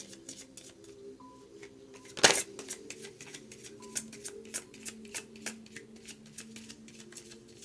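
Tarot cards shuffled by hand in quick riffling bursts, with a louder flutter near the start and light tapping and handling sounds afterward.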